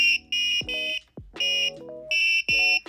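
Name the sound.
electronic buzzer playing a tune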